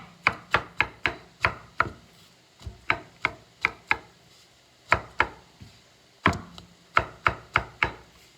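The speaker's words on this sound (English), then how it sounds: "I'm going to need to cut them tomatoes" A knife chops fresh tomatoes on a cutting board in sharp, close, regular thuds, delivered in quick bursts of several strokes separated by short pauses, with no talking.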